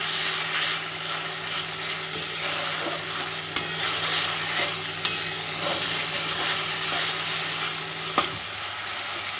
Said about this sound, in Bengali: আদা রসুনটা একটু ভাজা ভাজা করে নিতে হবে